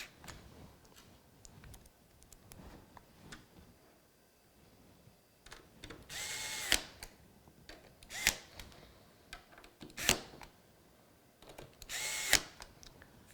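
A power screwdriver drives screws into a PC power supply, four short whirring bursts spaced a second or two apart, close and fairly loud, with quieter handling clicks and rustles between them.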